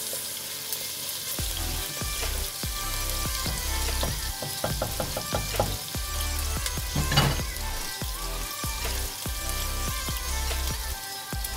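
Chopped tomatoes fry in a pan for an upo and sotanghon dish, giving a continuous close sizzle with crackling pops and occasional stirring clinks and scrapes, with no voices.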